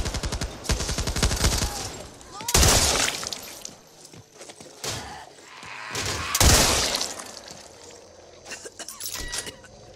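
Shotgun blasts in the co-op zombie shooter Back 4 Blood, several loud, sharp bursts fired at irregular intervals with ringing tails and quieter clatter between them.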